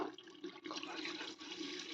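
Steady rushing water runs continuously, a full splashing stream filling a cooking pot of chicken nearby, with no talking.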